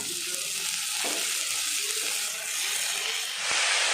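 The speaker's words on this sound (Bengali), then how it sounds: "পেঁয়াজগুলো লাল লাল করে ভেজে নেব" Onions and drumstick flowers frying in oil for a bhorta, a dense steady hiss of sizzling with a couple of soft stirring knocks, heard close up with no talking.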